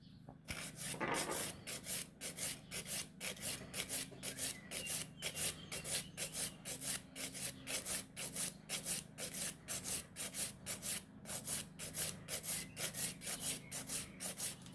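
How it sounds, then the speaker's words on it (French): A fingernail is filed with a nail file in quick, even back-and-forth strokes, a soft close rasping rhythm that continues steadily without speech. "je vais remonter en limant pour affiner mon ongle"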